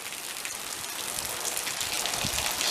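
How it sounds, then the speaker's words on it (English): Light, gentle rain falls on a no-weed garden in May, a steady close patter of drops with no voices. "I appreciate the rain."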